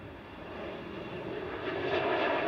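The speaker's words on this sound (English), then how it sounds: "Departing now is Air France," An Air France airliner departing Manchester Airport, heard as a steady broadband engine roar that builds slightly in loudness over a couple of seconds, moderately distant with no talk.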